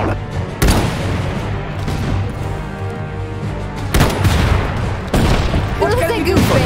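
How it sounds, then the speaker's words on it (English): Gunfire in the real-time strategy game Iron Harvest: loud, close volleys of rifle and machine-gun shots and booms, with sharp bursts over a constant battle din and shouted voices. "They're shooting!"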